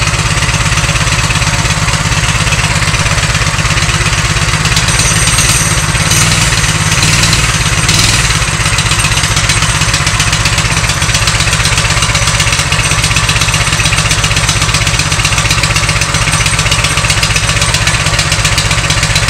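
A Coleman BT200x mini bike engine runs steadily with a loud, close, buzzing small-engine drone and rapid regular firing pulses, holding an even idle throughout with no talking.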